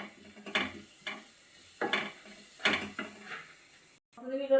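Masala with a little garam masala powder being stirred in a pan, a few distinct scraping strokes spaced about a second apart over a faint sizzle.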